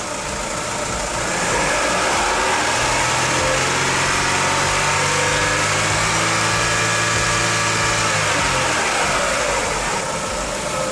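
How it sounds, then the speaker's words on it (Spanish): A car engine is held at about 2000 rpm during a fuel pressure check, a loud steady drone with a rising then falling tone as the revs climb and settle, heard close and alone. "Y voy a acelerar el motor más o menos a unas 2000 revoluciones."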